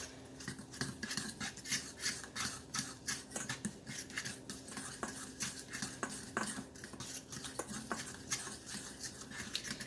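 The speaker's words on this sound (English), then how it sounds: "Let me get a fork. We're going to stir this all up." A fork scrapes and clinks steadily against a bowl while stirring cinnamon keto snack cake batter with almond flour, a fast, continuous rhythmic rasping close by and fairly soft.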